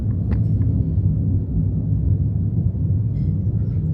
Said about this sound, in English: Is that thunder?